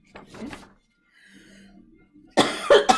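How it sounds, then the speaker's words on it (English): Two bursts of coughing muffled into a shirt, a short one at the start and a louder, harsher one near the end, with a quiet lull between. "Coughing into my shirt"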